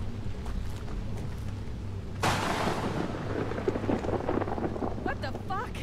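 Thunder cracks from lightning in the horror game Outlast 2, a sudden broad loud boom that rolls on over steady rain and storm noise, with a voice speaking faintly over the rumble.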